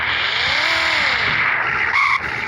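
A car's tires squeal loudly through a skid with a steady engine roar underneath, then the screech cuts off abruptly near the end.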